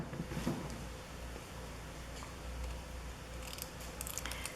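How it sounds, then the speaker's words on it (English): Scissors snip through paper in a few quick, quiet cuts, with soft rustling and handling noise close by. "These are the scissors I fussy cut with."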